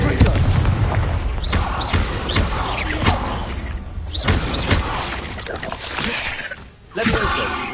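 Booming blasts from the Confringo fire spell in Hogwarts Legacy crack out repeatedly amid dense combat noise, loud and close, with several sharp impacts and a voice speaking over the chaos.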